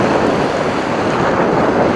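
Steady wind roars against the microphone on a bike ride along the sea near an industrial harbour in Larvik, Norway, a loud continuous rumble with no break.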